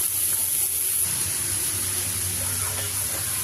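Steady sizzling and crackling of garlic frying in a pan with sausage fat, a continuous bright hiss with faint clinks in the background.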